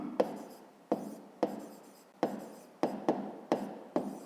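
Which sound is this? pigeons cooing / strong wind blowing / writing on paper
writing on paper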